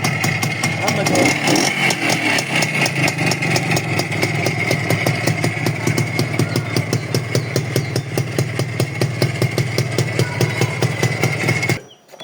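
A chopper-style moped's engine idles with an even, rapid throbbing pulse, close and fairly loud, running steadily before cutting out abruptly at the end.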